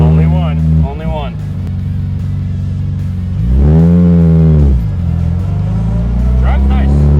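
A 1954 Jaguar XK120 engine drones steadily while driving, its low exhaust note rising and falling with gentle revs, close up beneath continuous conversation inside the car.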